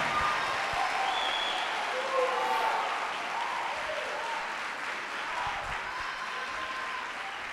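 A church congregation applauding during a Portuguese-language worship service, sustained clapping mixed with crowd voices and some talk, steady and moderately loud throughout.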